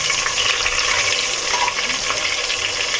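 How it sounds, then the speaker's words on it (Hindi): Ginger-garlic paste frying in hot oil for a mixed vegetable dish, a loud, dense, continuous sizzle with stirring scrapes mixed in throughout, no voices present. "मैं डालती हूँ ये अदरक लहसुन का पेस्ट। पहले मैं इसको हल्का सा ब्राउन कर लूँगी"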